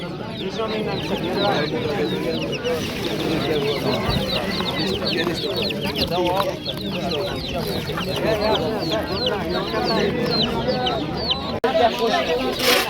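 Many chickens cluck and chatter continuously in a busy, crowded space, with people talking amid the flock.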